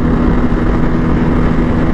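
A Bajaj Pulsar N250 motorcycle engine held at high revs, a steady, loud, continuous drone with a low hum that stays constant throughout, with no voices.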